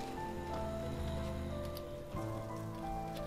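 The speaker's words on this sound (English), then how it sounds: "It's just rain." Steady rain falls in the video game Night in the Woods, a constant close patter that runs without a break under the game's soft tonal background music.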